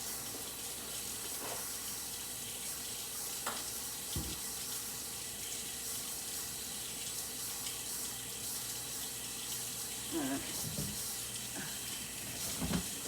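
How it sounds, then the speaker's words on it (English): Tap water runs steadily into a cooking pot in a home kitchen, a continuous close hiss and splash lasting the whole time, with a few faint knocks and clinks and no talking. "put water in here"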